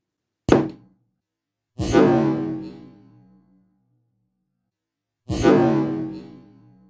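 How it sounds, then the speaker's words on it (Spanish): Three sudden booming blasts from gas-filled balloons exploding, each a sharp burst that decays over a second or so, separated by silence; close and loud. "aquí la explosión fue distinta a la otra"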